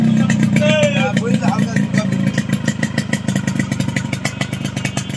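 An original Japanese Yamaha RX115 motorcycle runs close by with a steady, rapid engine pulse and a few light revs. Someone talks over it at the start.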